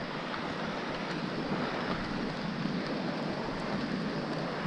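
Rain falls steadily by the Guayllabamba river, a dense, even hiss of drops with no breaks, close and fairly loud throughout, with no talking over it.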